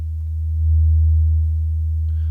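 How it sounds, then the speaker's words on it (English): A steady, pure low sine tone hums continuously and loud, unwavering in pitch, with nothing else around it. "So far, all we hear is a sine wave."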